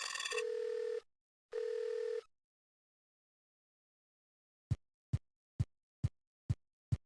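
Telephone sounds from the Nightmare Ned video game: two long electronic ring tones, a pause, then six evenly spaced short low thumps.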